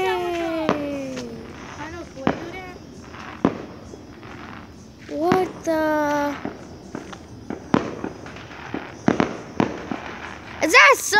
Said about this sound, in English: There's a firework right there.